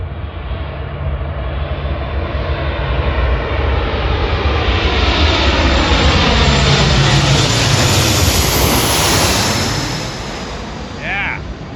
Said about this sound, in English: Here comes this guy back from his bombing drop, and he's coming right for me.